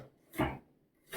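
A knife chops chicken on a wooden board with one firm, close stroke near the start and another at the very end. The rest is quiet.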